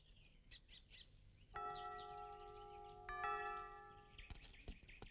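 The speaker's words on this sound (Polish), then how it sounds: "Chodź, ojcze, dzwonią na posiłek." A bell rings out to call to a meal, two sustained tonal strikes with a long ringing decay, set among faint outdoor bird chirps before and after.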